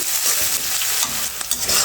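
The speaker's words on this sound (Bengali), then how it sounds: "এখন আমি খুব সুন্দর করে মেরেকে একটু ভেজে নেব" Onion and green chilli frying in a pan with bay leaf and cumin, a loud, steady crackling sizzle with the scrape of a spatula stirring throughout.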